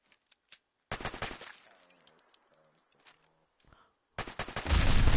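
A video game pistol fires a few sharp isolated shots, then a dense loud burst; brief low voice sounds fall in between, and a final heavy volley closes the sequence.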